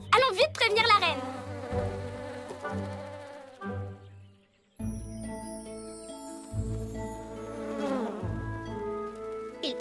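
A cartoon bee buzzes in flight, a bright, wavering drone that swoops up and down in pitch, set against animated soundtrack music and voices.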